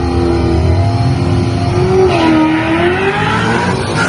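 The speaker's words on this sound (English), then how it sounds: "How he's revving her up now." A Coyote-swapped Fox-body car with left-foot clutch revs its engine up close, a loud sustained roar whose pitch climbs and dips through a few throttle blips.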